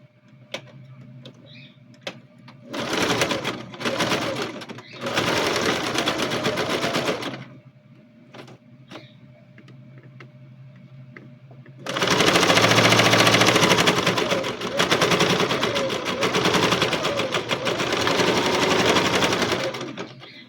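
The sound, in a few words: sewing machine stitching a seam on a backpack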